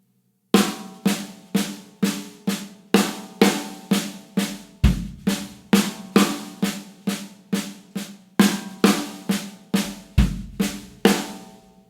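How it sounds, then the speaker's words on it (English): A drum kit plays a six-stroke roll fill pattern with kick, crisp tom and snare hits in steady rapid groups, with deeper kick thumps marking repeated cycles, loud and close with no talking. "The pattern we're going to be using in this video is going to be a 6-stroke roll"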